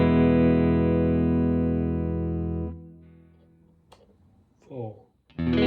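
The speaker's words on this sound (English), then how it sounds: "Let's now hear clean tones in all positions." An Ibanez S1620 electric guitar on a clean tone with the pickup selector in position 5 rings out as one sustained chord that decays and cuts off, followed by someone speaking.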